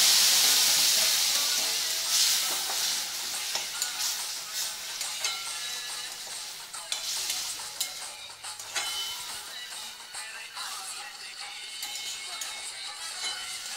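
Spinach sizzling in a pan alongside fried bori lentil dumplings, a steady broadband hiss of frying with scattered crackles and light clinks, loudest at the start and continuing evenly.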